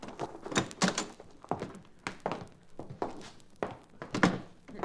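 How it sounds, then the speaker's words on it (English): Old-time radio drama door effect: a series of thunks and knocks, like a door being handled and opened, sounding fairly close with no talk over it. "Here, Miss Schiller, I'll open the door."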